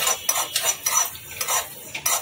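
Spices with ajwain dry-roast in a pan, heard as a series of quick scraping, rustling strokes of a spoon stirring the seeds, close and rhythmic, without talk.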